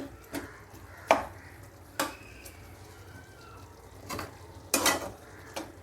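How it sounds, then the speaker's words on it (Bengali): Pasta being stirred in a frying pan with black pepper added, heard as a handful of distinct scraping clinks of the utensil against the pan over a faint background hiss, with no speech. "এটাকে ভালো করে নেড়ে চেড়ে দিয়ে"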